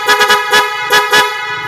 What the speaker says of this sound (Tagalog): So matong Bosch Evolution